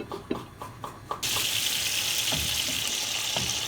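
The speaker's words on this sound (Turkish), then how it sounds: "Biberlerimiz kızaradır." A few light clicks and taps, then a steady loud hiss of peppers frying in a pan takes over and continues without a break.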